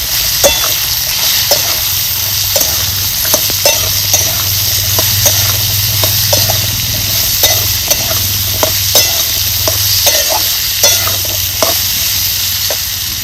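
Chopped peru leaves are stirred into a sizzling pan for an Ayurvedic vegetable dish, a loud continuous fry with a low hum underneath and regular scraping clicks from the spoon.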